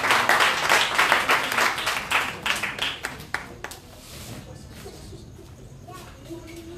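A church congregation claps loudly and fast in praise of Jesus, with dense overlapping hand claps for about four seconds before fading, while voices carry on underneath.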